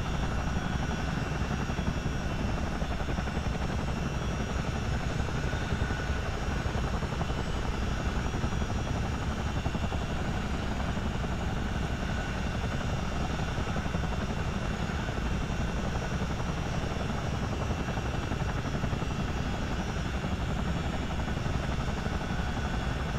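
Video game CH47 Chinook helicopter flying low, a continuous loud rotor and engine drone that stays steady and unbroken throughout, with no voices.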